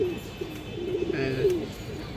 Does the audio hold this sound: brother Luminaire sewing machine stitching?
no